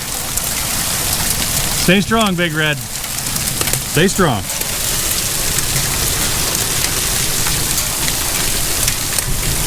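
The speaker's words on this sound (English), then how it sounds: "Yep, there's hail coming down." Hail falling on a shed roof during a hailstorm, a continuous loud hiss of dense pellets drumming overhead, with someone speaking twice over the steady roar.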